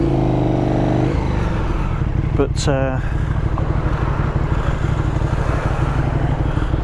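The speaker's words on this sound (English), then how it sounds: "I was still thinking that the exhaust may be a little bit too loud" A 2020 KTM 1290 Super Duke R motorcycle engine runs steadily and close, its low exhaust rumble continuing throughout while someone talks briefly over it.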